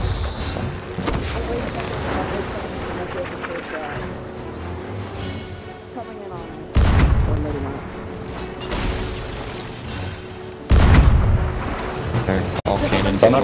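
Ship cannon fire during a naval battle in the video game Sea of Thieves: heavy booms land at irregular intervals over a busy mix of game sounds, with crew members talking throughout.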